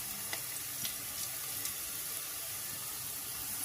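Thin slices of bitter gourd fry in oil in a pan, giving a steady soft sizzle with a few faint crackles and pops throughout.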